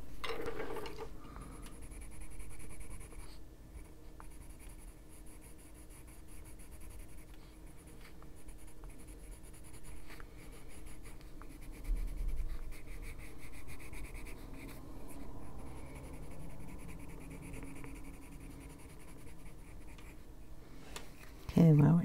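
Colored pencil scratches steadily across a paper coloring page, a continuous soft scratchy rubbing with brief pauses and occasional louder strokes near the end.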